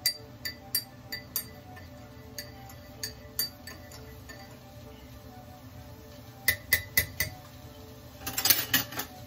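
A metal spoon stirs coffee in a mug, clinking in quick irregular taps against the sides, pausing, then tapping again and ending in a brief burst of rapid clinks, close and clear.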